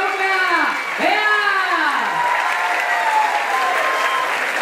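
Crowd applause and cheering at an LGBTQ+ pride march in Cuautla, a steady wash of clapping beneath a loud voice calling out with rising and falling pitch.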